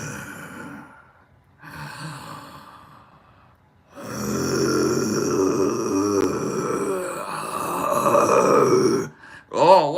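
A voice demonstrates raspy, heavy breathing in drawn-out, strained breaths, some growling and groan-like, with short pauses between, close and fairly loud, ending in a brief sharper vocal burst.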